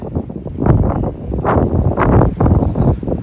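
Gusty wind during an April snowstorm buffets the microphone in loud, rumbling surges that rise and fall every second or so, outdoors near blooming rapeseed fields.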